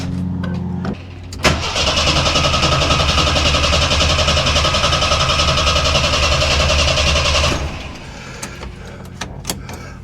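A Jeep Scrambler's engine, newly fitted with a swapped carburetor, cranks, catches and runs loudly and steadily for about six seconds before shutting off, followed by a few sharp clicks.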